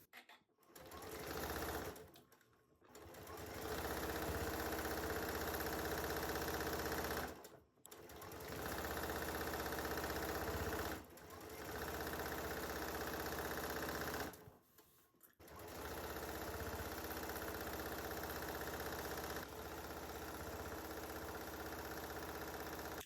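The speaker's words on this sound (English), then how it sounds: "So what I'm going to do now is sew this part." Sewing machine stitching quilt block pieces for a tulip star sampler block, running in long steady whirring stretches broken by several short stops, close and constant.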